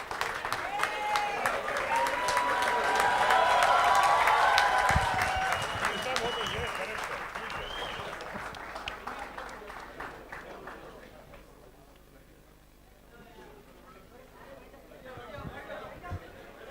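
A large audience at the Yash Chopra Memorial Award ceremony gives a standing ovation, with dense applause mixed with crowd chatter. It swells over the first few seconds and then fades as the room quiets.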